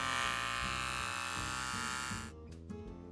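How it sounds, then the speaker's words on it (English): A Flowbee haircut attachment running on a vacuum cleaner hose gives a close, steady electric whirring hum for about two seconds before the motor cuts off, leaving a few faint clicks. "Attach the Flowbee hose to the vacuum hose and plug in the power supply."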